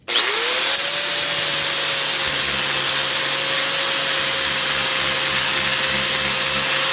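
Steady rasping of a file working a parting line rib off a cast power steering part, close and continuous under a faint tonal hum, with no talk.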